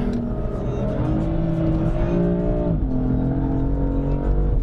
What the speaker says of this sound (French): Je sais pas si le micro fait ressortir le bruit comme je le vis, mais franchement, elle a une sonorité cette voiture.